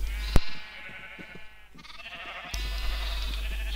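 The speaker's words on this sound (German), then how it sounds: "So, Schafe, da haben wir noch eins mit Fell" Sheep in the Minecraft video game bleat in drawn-out wavering calls, sounding close and clear over a low steady hum, with a sharp click near the start and another partway through.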